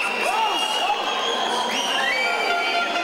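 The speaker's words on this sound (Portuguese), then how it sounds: "A cada gol do Brasil, um grito da torcida." Brazilian football fans roar and cheer together after a goal in a World Cup match, a dense, steady crowd noise with scattered high shouts and whistling voices rising above it.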